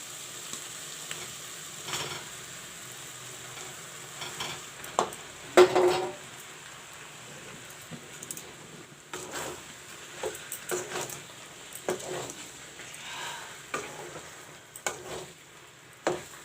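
Mashed green peas fry in a pan while being stirred, giving a soft continuous sizzle broken by repeated scraping and stirring strokes of a utensil against the pan.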